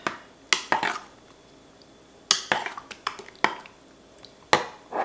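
Spiced sausage and pumpkin being mixed for meal prep, sharp clattering knocks and scrapes of a utensil against a bowl that come in bursts separated by short quiet gaps, close and alone.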